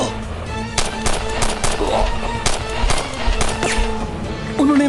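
Loud gunfire from an action drama shootout cracks out in irregular single shots and short bursts across several seconds, sharp and close, with faint voices underneath.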